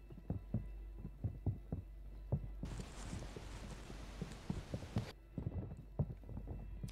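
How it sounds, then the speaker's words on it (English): Soft, quick footsteps patter in a video game, an irregular run of light taps with a brief hiss of noise in the middle, faint and somewhat distant. "A lot of footsteps."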